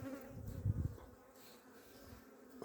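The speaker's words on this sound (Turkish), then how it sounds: "bunun içinde arı var." A low, steady buzzing of honeybees in a hive close by, swelling briefly then settling into a continuous hum, with no voices.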